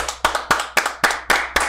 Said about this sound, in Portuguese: Uma salva de palmas pro Bernardo vai beber.